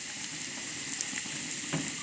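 Onions sizzle steadily in hot oil for a potato dish, a close, continuous frying hiss with small pops throughout.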